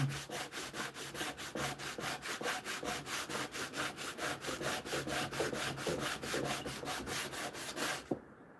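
Rhythmic back-and-forth scrubbing of 80 grit sandpaper on a wooden cabinet door, steady close strokes roughly three per second, stopping abruptly near the end.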